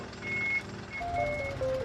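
An ice cream van plays its chime, a short thin melody of a few sustained tones over a low engine hum, fairly close.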